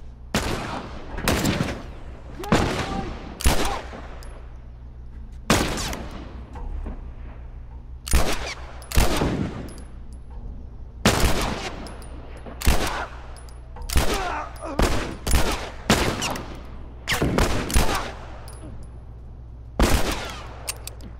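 Bursts of gunfire from The Last of Us Remastered, a dozen or so loud sharp volleys arriving irregularly across the span over a steady low game hum, with no talking.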